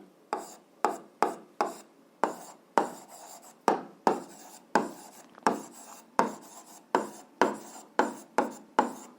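Pen strokes while writing out an algebra solution, a close, regular series of short scratchy bursts, each sharp at the start and quickly fading, about two a second and with no voices.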